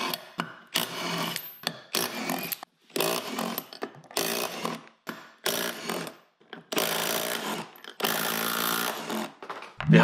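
A Makita cordless impact wrench rated at 280 Nm tightening bolts in a workshop, firing in about a dozen loud, harsh rattling bursts of hammering with short pauses between them; no talking.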